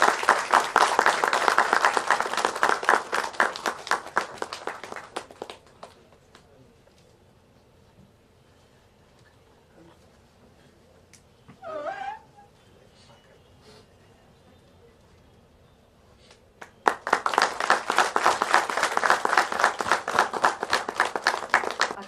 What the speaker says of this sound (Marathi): टाळ्या वाजल्याच पाहिजे